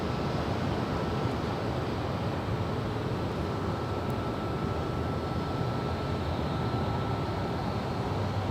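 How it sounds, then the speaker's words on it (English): An Alaska Airlines Airbus A320 arriving at Los Angeles International Airport from SeaTac, heard as a steady, broad jet roar that holds at an even level throughout without a break. "This is Alaska flight 297 coming in from SeaTac,"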